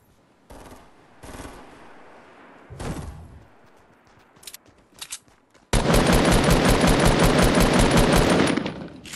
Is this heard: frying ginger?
no